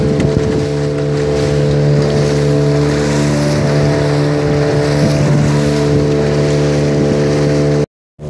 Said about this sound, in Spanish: ¡Vamos en la lancha!